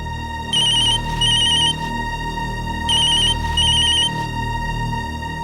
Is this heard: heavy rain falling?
no